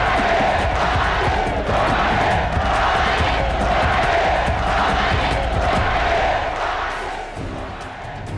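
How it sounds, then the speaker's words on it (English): A huge stadium crowd roars and chants for Muhammad Ali at his fight with George Foreman, a dense, loud, continuous wall of cheering voices with rhythmic chant pulses, easing slightly near the end. "Ali responded to the roars of the crowd"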